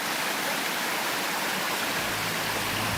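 A mountain spring stream runs through native forest in central-southern Chile, a steady, close rush of flowing water with no voices, keeping the same broad hiss for the whole stretch.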